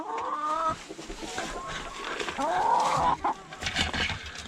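Backyard chickens feeding on soybeans cluck and squawk close by in a busy overlapping chorus, with rising and falling calls and no talk.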